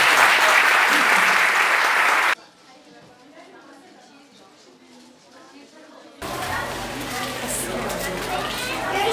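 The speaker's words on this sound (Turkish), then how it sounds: "Bir alkış." Audience applause at a municipal youth event in Kayseri: a loud burst of clapping, a quieter stretch of murmuring, then a second round of sustained clapping that carries to the end.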